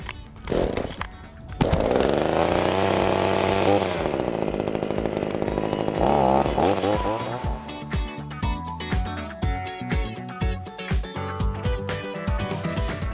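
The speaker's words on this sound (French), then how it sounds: "Et ensuite vous lancez la tronçonneuse." A Parkside petrol chainsaw is pull-started with a couple of short tugs. It catches and roars loudly at high revs, then settles into an uneven, pulsing run, close to the listener.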